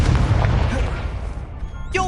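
An Incendio fire spell is cast in Hogwarts Legacy: a loud, dense whooshing burst of flame and impact rumble that fills the short moment, then fades into a brief ringing shimmer at the end.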